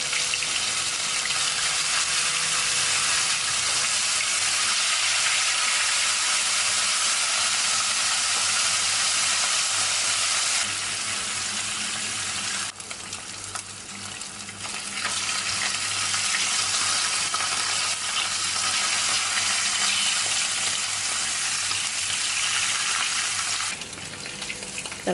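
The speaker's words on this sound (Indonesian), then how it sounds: "Kalau sudah panas, kita akan goreng ikan asinnya terlebih dahulu ya." Salted fish frying in hot oil in a wok, a loud steady sizzle with crackling spatter that runs without a break for about 25 seconds and dips slightly only briefly partway through.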